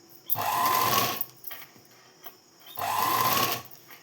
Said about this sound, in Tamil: இப்படி வச்சு தையல் ஓட்டிக்கலாம்